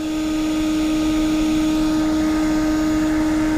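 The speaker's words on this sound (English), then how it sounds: "and I will occasionally restart it, and we'll check the inside of the vacuum" A vacuum cleaner runs steadily and loudly throughout with a constant droning whine, set up to suck yellow jackets out of their nest, with no voices over it.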